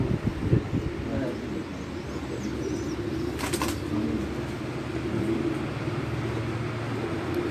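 Teddy pigeons coo softly at a breeder's home, low murmuring calls mixed with wing flaps and background bustle, a brief brighter rustle midway, steady and close throughout.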